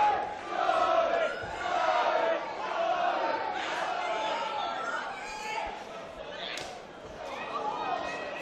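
Boxing arena crowd during a live bout, a continuous murmur of chatter rising into oohs and ahs in swelling waves, with a commentator talking over the top.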